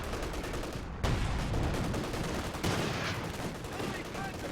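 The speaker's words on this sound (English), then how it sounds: "Why did he call major artillery there?" Artillery barrage in the World War II strategy game Company of Heroes 2, heard as dense, continuous battle noise with two sharp heavy impacts standing out from a steady rumble of gunfire.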